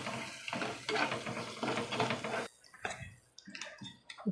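A spoon stirs chicken with coriander and turmeric powder in a pan, scraping and clinking steadily at first, then in sparser, softer strokes as the mixture is turned over.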